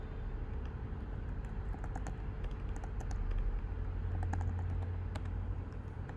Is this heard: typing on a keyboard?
yes